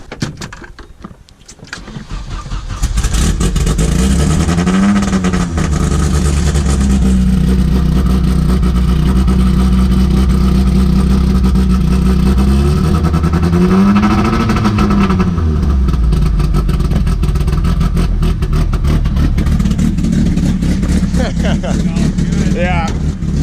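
A 12-volt Cummins diesel in a box truck cranks and fires up, then settles into a loud, rough, heavy idle with two brief rev swells, continuous and close.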